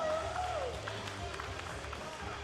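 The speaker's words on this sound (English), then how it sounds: "And this crowd is exploding right now." A wrestling crowd roars and cheers as the champion arrives at a 2PW event, a steady dense wash of noise filling the whole moment, with a voice talking over it at the start.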